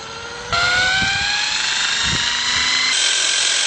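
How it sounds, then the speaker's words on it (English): A drill spins a gyroscope up to a few thousand RPM, producing a loud, steady whirring whine that jumps higher in pitch as the speed builds, with no talk over it. "I'm going to spin this up to a few thousand RPM"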